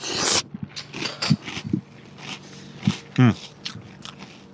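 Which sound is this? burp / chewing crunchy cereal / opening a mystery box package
chewing crunchy cereal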